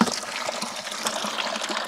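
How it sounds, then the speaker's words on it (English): Water rushes and splashes steadily into the silt bucket feeding a 1-inch ram pump, a continuous close trickling flow with no talk. "let's walk back up here to the silt bucket and get the water flow back into"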